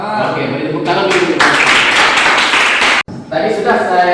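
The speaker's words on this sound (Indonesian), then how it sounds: "beri tepuk tangan dulu" Classroom of students clapping their hands during a physics lesson on series circuits, a loud, close burst of group clapping that swells, cuts off briefly, then resumes more lightly.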